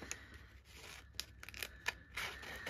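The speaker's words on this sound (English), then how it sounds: "Trying to do some cutting out this morning" Paper being cut by hand with scissors for handmade folding notebooks: a series of short, quiet snips and crisp rustles in irregular rhythm, close by, with no talking.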